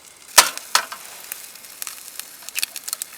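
Eggs sizzle and crackle in a pan on a small camping stove during a rainy-night camp dinner of steak and eggs, with a sharp pop early, then a soft, steady fry and scattered close crackles.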